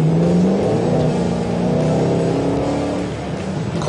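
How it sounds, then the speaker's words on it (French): Cabin engine roar from a sports car, a Nissan GT-R or Ford Mustang Shelby GT500 from 2013, accelerating with a loud, steady, rising drone that fills the interior. "Quand on accélère, le bruit remplit tout l'habitacle"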